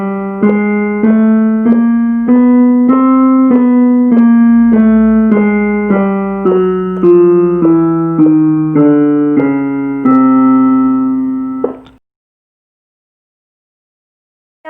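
An instrument plays a chromatic scale as a run of distinct, evenly spaced notes, rising by semitones and then falling back. The tones are loud, close and clear, and they stop abruptly into silence.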